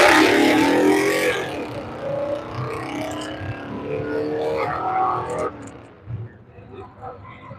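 Drag race cars roar as they accelerate around a racetrack during a heads-up racing event. The engine noise is loud at first, then settles into a sustained rumble that fades toward the end, with someone talking over it.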